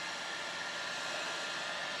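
A heat gun or hair dryer blows a steady, close rushing stream of hot air into a silicone cup used for resin, loud and unbroken throughout.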